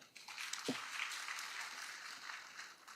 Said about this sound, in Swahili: Tujifikie makofi.